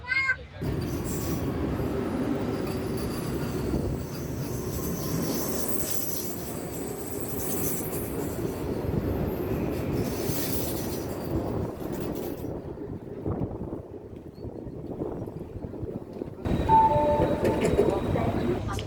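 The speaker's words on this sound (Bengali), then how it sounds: "আমাদের ট্রেন বিশাখাপত্তনমে ঢুকছে, 40 মিনিট লেটে চলছে ট্রেন" A Chennai Mail passenger train rumbles along steadily entering Visakhapatnam, with rattling wheels and occasional squeals, loud and continuous, with voices faintly underneath.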